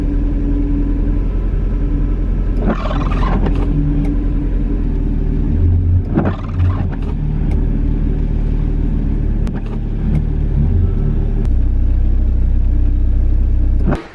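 Mazda MX5 Mk2 1.8 creeps into a garage, its engine a steady low idle rumble held close throughout, with a few brief rises and clunks along the way and no talking.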